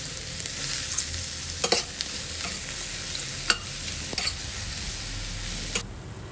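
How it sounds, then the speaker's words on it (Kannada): Vegetables being stir-fried in a pan, a steady hiss of frying broken by several crisp clanks and scrapes of the spatula, near and without talk. "ಸೊ ಇದನ್ನು ಸ್ವಲ್ಪ ಸ್ಟಿರ್ ಫ್ರೈ ಮಾಡಿ ಇದನ್ನು ಒಂದು ಪ್ಲೇಟ್ಗೆ ಹಾಕಿ ಇಟ್ಟಿರಿ."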